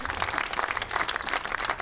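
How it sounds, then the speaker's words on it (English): Audience clapping at a Detroit justice tribute awards event: dense, brisk applause from many hands, evenly loud and close throughout. "we can clap today"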